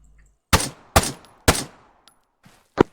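Gunfire from a weapon aimed at enemy contacts: three loud, close shots in quick even succession, then a quieter pause with faint distant pops before one more sharp shot.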